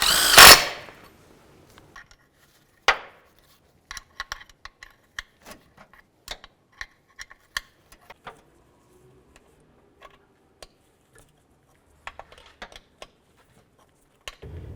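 Power tool running down the bolts on a 2000-2005 Buick LeSabre center transmission mount: a loud burst at the start, then a series of short sharp ticks and clicks scattered across a quiet background, with a final burst near the end.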